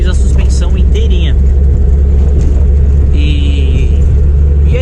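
Chevrolet Opala with a turbocharged six-cylinder engine, a heavy low rumble running steadily and loudly under someone talking throughout.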